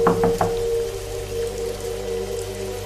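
Rain falling with scattered drops tapping at the start over a steady low hum and soft background wash, fairly close and moderately loud, for a horror story scene.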